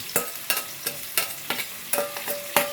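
Onions frying in a pan for chana masala, stirred with a utensil in about eight evenly spaced scraping strokes over a steady low sizzle, close and clear with no talking.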